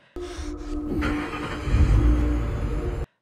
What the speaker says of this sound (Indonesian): kali ini terdengar suara mesin mobil yang menyala